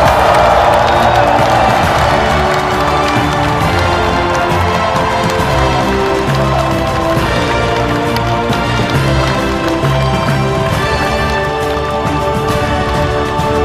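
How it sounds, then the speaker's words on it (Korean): A large audience in a formal hall claps and cheers steadily to welcome President Lee Jae-myung at the launch meeting of the 22nd Democratic Peaceful Unification Advisory Council, with the dense applause running loudly the whole time. "이재명 대통령을 뜨거운 박수로 환영해 주시기 바랍니다"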